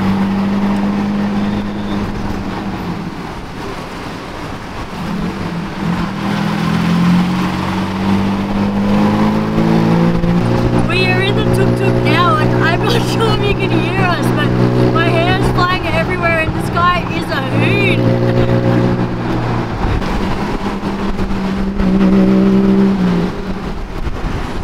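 A tuk-tuk rides through Bangkok streets, its small engine droning loudly and revving up and down throughout. Voices talk over the engine noise partway through.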